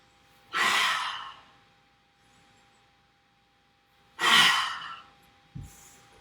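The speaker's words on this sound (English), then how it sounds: "exhale a roar out through the mouth" Two forceful open-mouth exhales of a lion's breath yoga practice, each a loud breathy roar lasting about a second with quiet between, followed by a short soft breath sound.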